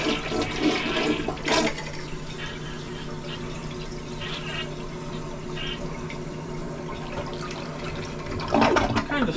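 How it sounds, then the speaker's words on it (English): A hotel room toilet flushes with a steady, loud rush of water through most of the stretch, swelling at the start and again near the end, with a person speaking briefly over it. "And the toilet. A little flush."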